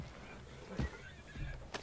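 A horse in Red Dead Redemption 2 lets out a brief, quiet neigh amid faint hoof and movement sounds, with no speech.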